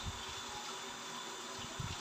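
A water pump runs with air trapped in it, giving a steady close rushing, gurgling hum with a couple of brief sputtering surges.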